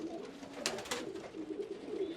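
Racing pigeons coo in a loft, a steady layered murmur of low cooing with a few brief brighter flutters or calls, heard up close and continuous with no talking.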